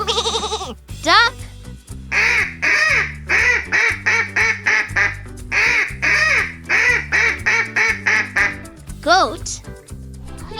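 A duck quacks in quick, loud bursts, grouped in short runs of repeated quacks, over a light musical backing with rising chime sweeps at either end.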